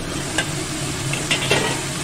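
Steady sizzling of vegetables for a curry frying in a pot, with a few soft scraping stirs cutting through the hiss. No voices.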